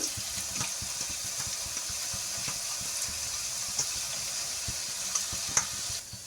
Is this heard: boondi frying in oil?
yes